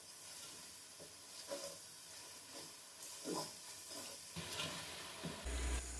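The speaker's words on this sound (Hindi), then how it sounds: "मसाले को हम तकरीबन 4 से 5 मिनट अच्छे तरीके से भून लेंगे" Spice masala for Bannu beef pulao frying in a pot, a steady sizzle and hiss with soft periodic stirring scrapes, close and even, with no talking.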